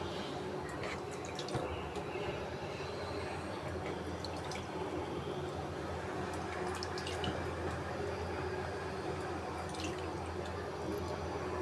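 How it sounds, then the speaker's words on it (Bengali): Water is poured bit by bit onto soil in a potted plant, a faint, close trickle and soft dripping that goes on steadily against quiet background noise. "এবারে একটু করে জল দিয়ে দেবো"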